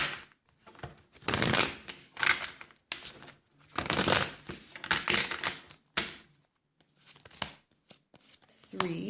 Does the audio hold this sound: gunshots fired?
no